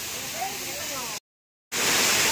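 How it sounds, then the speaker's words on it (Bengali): Bamni Falls in Purulia pours steadily, a constant close hiss and rush of falling water that cuts out for half a second and then returns slightly louder. "So wow, this is Bamni Falls."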